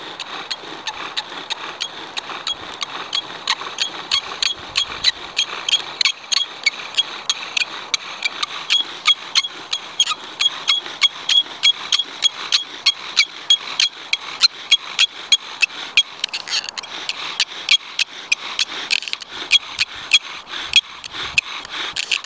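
A wooden bow drill spindle spins in a chaga fire board, making a steady, rhythmic squeaking and rasping friction with each back-and-forth stroke of the bow, close and continuous.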